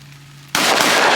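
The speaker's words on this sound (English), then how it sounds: "Let's Shoot them all?" A single loud gunshot at a shooting range cracks out after a moment of quiet and leaves a sustained booming roar that lasts to the end.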